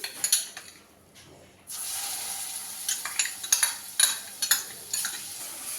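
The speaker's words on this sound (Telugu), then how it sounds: "ఈ ఆయిల్లోనే మనం ఇందాక రెడీ చేసి పెట్టుకున్నాం కదా అల్లం వెల్లుల్లి పేస్ట్ అది వేసేసుకోవాలి" Ginger garlic paste hits hot oil for a chicken pickle and gives a sizzle that settles into a steady fry, broken by repeated scraping stirs of a spoon against the pan.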